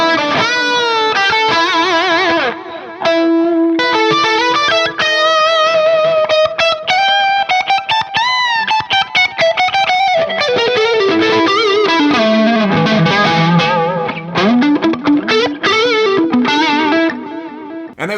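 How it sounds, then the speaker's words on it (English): A guitar played through a Boss DD-20 delay pedal on its stereo pan delay setting, loud and continuous, with sustained, distorted chorus-like notes whose repeats bounce and trail behind each phrase. "was the pan delay, which sounds like this"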